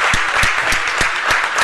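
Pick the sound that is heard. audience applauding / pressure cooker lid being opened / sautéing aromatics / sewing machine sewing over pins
audience applauding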